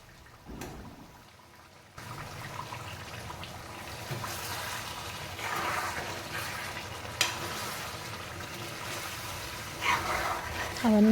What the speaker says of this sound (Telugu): వేసి ఇప్పుడు బాగా కలపాలండి.